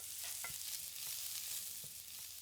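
Meat and vegetables caramelise for gravy over high heat, making a faint, steady hiss of frying with a few soft stirring knocks.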